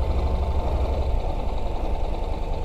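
Motorcycle engine held at steady throttle with the clutch half engaged on a driving-school wavy-road course, a low, continuous close-up rumble with only slight variation in level.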